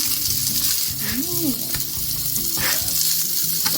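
Pancakes cook in a hot pan with a constant loud sizzle close by, marked by faint scrapes and taps and a brief voice-like warble partway through.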